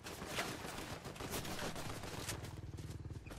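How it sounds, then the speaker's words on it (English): Gunfire in a Fortnite squads match, a steady stream of rapid shots throughout, with a dense burst of repeated reports toward the end; heard amid game sounds, no talk. "there's somebody else shooting"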